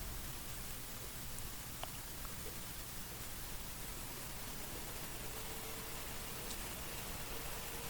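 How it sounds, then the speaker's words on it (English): Whisper cooling fan running on a transformer, a faint, steady broadband hiss holding evenly throughout with no speech. "I've got a whisper fan on the transformer. That's what that noise is."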